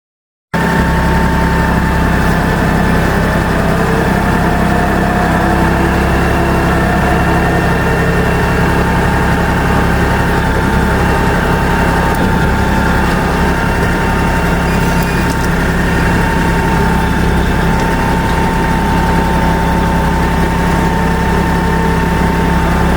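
A Kobalt electric chainsaw cutting brush gives a loud, steady, close motor whine with a low hum beneath it, running without a break for over twenty seconds.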